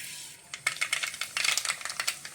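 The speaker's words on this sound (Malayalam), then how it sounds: "1/2 സ്പൂണ് കടുക് ഇട്ട് കൊടുക്കാം" Half a spoon of mustard seeds dropped into hot oil in a pan, a quiet hiss followed by a rapid, irregular run of small crackles and pops spread across the whole stretch.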